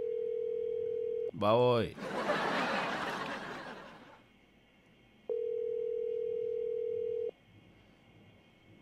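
A telephone line tone on a call during a Telugu radio prank show, a steady tone heard in two separate bursts. Loud laughter and chatter fill the gap between them.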